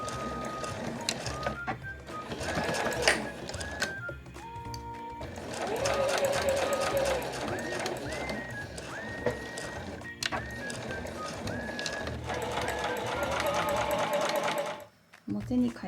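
A sewing machine stitches the seams of a handmade fabric pouch in steady runs with brief pauses, its motor whirring closely while someone talks over it.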